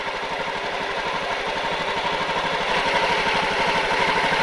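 A motorcycle engine ticks over at a steady idle just after its idle setting is adjusted, a close, even low putter with fine regular firing pulses and no voices.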